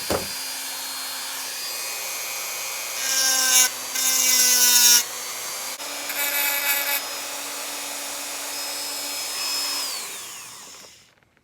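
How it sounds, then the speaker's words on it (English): A Dremel with a grinding attachment whines steadily while grinding solder buildup off an MR2 throttle cable barrel, rising into harsher bursts as the bit bites the metal, then spinning down at the end. "I put a grinding attachment on the Dremel and started working on removing the solder buildup on top of"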